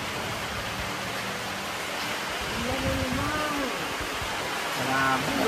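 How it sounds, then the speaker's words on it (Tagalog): Heavy rain that grows stronger, a loud dense roaring hiss that swells toward the end, with voices talking underneath. "Ay, lumalakas na naman ang ulan."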